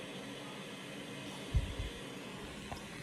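A white noise machine for a baby's sleep gives off a soft, even hiss at low level throughout, with a brief dull thump near the middle.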